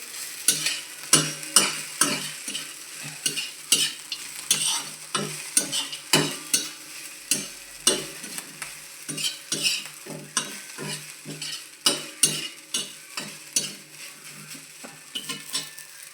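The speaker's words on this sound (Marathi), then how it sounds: "भाजलेले शेंगदाणे कोथिंबीर टाकून वाचलेले चांगले वास मिळेपर्यंत परतून घ्यायची" Roasted peanuts and coriander being stirred into onion poha in a pan: a rapid, rhythmic run of metal spoon scrapes and clinks against the pan over a soft sizzle, close and steady, with no talking.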